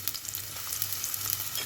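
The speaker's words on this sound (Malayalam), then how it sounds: "നമ്മൾ അരിഞ്ഞ് വെച്ച ഇഞ്ചിയും വെളുത്തുള്ളിയും സവോളയും ഇതിലേക്ക് ചേർക്കാം." Chopped ginger, garlic and onion hit hot oil for a home-style tuna curry, giving a bright, close, continuous sizzle with small crackling bursts and no talking.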